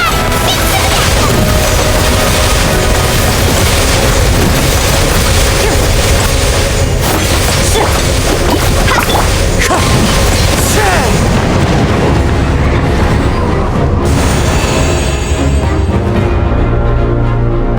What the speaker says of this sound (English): did you guys see that huge fireball? It exploded right above my head.